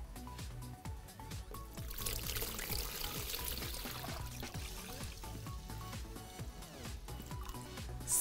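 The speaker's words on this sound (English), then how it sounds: "I'm gonna fill it with tap water." Tap water pours steadily into a cooler, a continuous splashing rush that builds after the first couple of seconds and stays loud throughout.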